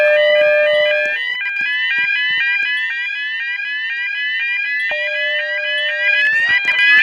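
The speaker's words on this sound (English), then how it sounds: "Maintenance is testing the fire alarm system." A building fire alarm system under maintenance testing sounds loud, rapidly repeating electronic sweeping tones that pulse continuously, with a brief lower tone near the start and end.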